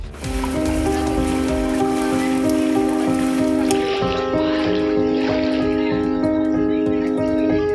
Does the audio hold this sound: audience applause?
no